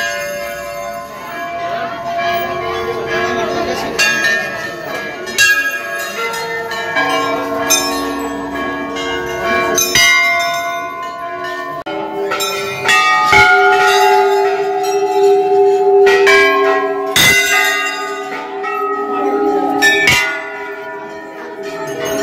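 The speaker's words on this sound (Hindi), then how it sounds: "ये हम बजाएंगे घंटी।" Temple bells ring repeatedly in clear, resonant strikes that overlap and hum, with voices murmuring softly underneath throughout.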